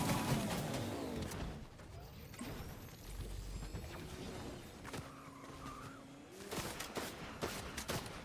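Rapid DMR rifle fire in a Fortnite Chapter 6 Zero Build solo match, several sharp shots cracking in bursts over a dense mix of game noise, with movement and skidding sounds between them.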